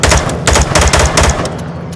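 An assault rifle fires rapid bursts in the VR shooter game Onward, with loud, close, punchy shots in quick succession before a short tail of quieter echo.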